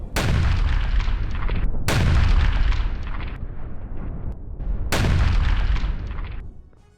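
Artillery fire from a Ukrainian artillery brigade during the Russia-Ukraine war, with three heavy booming blasts a couple of seconds apart, each rolling out into a long rumble.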